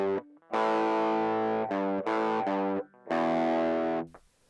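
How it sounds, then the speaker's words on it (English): Distorted electric guitar strums 2-string open power chords, several sustained crunchy chords ringing out with brief gaps between them, played alone without any talking. "First up are 2-string open power chords."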